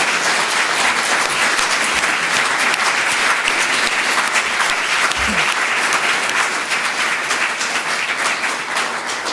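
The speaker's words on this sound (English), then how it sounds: "thank the Ombudsman in the customary way by a round of applause" A lecture audience at NUI Galway thanks the Ombudsman with a loud, sustained round of applause, a thick wall of many hands clapping close and continuous for the whole stretch without letting up.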